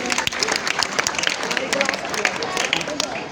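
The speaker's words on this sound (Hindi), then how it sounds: "मैं चाहूंगा कि एक बार जोरदार तालियों से इस बच्ची का स्वागत किया जाए।" Loud, dense clapping from a school audience at an Independence Day celebration, welcoming a ninth-grade girl, a continuous close wash of many hands with no talk over it.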